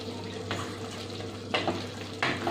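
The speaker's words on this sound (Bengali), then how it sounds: "খুব ভালোভাবে মিশিয়ে নেব" Potol chingri, a pointed gourd and prawn curry, being stirred and mixed in a sizzling pan: a gentle frying hiss runs throughout, broken by three distinct scraping strokes of the spoon against the pan.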